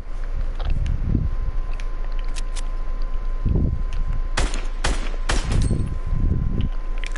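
Gunfire in the video game Fortnite comes as several short sharp bursts spread across the clip, loud and close over a steady background hum.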